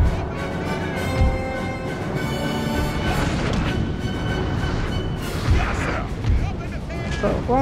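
Prussian artillery booms in Napoleon Total War, several deep cannon thuds landing at irregular intervals amid a dense roar of battle noise, with someone talking over the fire.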